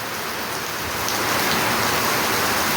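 Heavy monsoon rain pours down in a dense, unbroken hiss that swells slightly louder partway through, close and steady with no voices.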